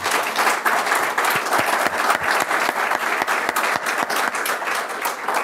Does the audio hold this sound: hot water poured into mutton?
no